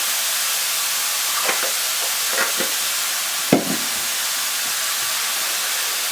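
Mushrooms and spinach frying in coconut oil in a pan, a steady soft hiss of sizzling with a few faint stirring scrapes and one sharper clatter near the middle.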